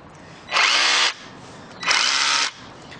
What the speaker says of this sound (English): It's a 2-mode, so it's going to do rotary drilling and rotary hammer.